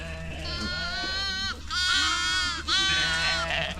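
Painted Desert sheep lambs bleat loudly and repeatedly for their mothers, overlapping high wavering cries in a farm pen, with low background noise throughout.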